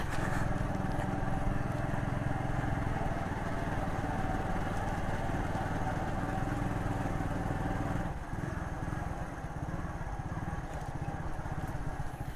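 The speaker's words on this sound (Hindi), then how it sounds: "मोटरसाइकिल आगे से उड़ रहा है।" A motorcycle engine strains loudly as the bike climbs a steep path with its front lifting, near Baba Farid's cave in Kallar Kahar. The drone runs close and constant, easing slightly late on, with no talk.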